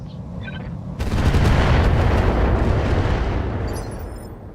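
A missile volley fires in the RogueTech BattleTech mod, opening with a sudden loud blast that swells into a long, rumbling roar of launches and explosions before slowly fading.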